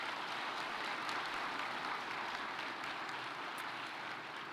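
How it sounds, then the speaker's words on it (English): Applause from the audience at a presidential panel forms a steady, even wash of clapping, soft and distant, without pause. "Let's give him a round of applause, please."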